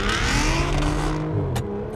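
An Aston Martin DB9 or Mercedes-Benz CL65 AMG engine revs hard during a full-throttle launch, rising in pitch through the gears, loud and close, easing slightly near the end.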